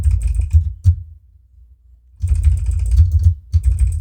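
Keys on a computer keyboard are bashed hard and nonstop during a Dungeon Crawl Stone Soup game, loud close-miked clatter in dense bursts. One silent gap of about a second breaks the typing before it starts again.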